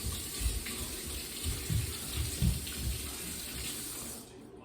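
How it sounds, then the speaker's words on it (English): Tap water runs into a sink while hands and an item are rinsed in a home kitchen, a steady close splashing flow with a few heavier gushes before it cuts off at the end. "let me rinse this off and wash my hands off"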